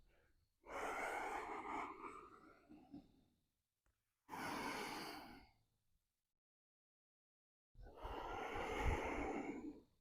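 Three deep, slow breaths during a full-body mobility exercise, each a long audible inhale or exhale close to the mic, separated by short silent pauses.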